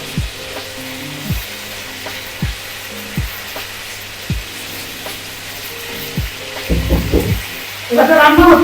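Smoked chicken fried rice cooks over an open gas flame with a steady sizzle, while a spatula scrapes and taps the pan in regular strokes that grow busier and louder toward the end.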